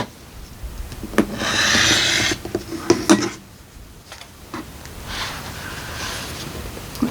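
Quilt fabric for a barn star block is trimmed and cut along a line, heard as close rubbing and scraping strokes with sharp clicks and handling noises, in uneven bursts and pauses.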